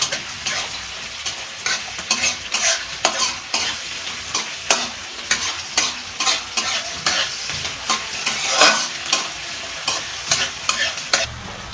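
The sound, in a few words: onions frying in a pan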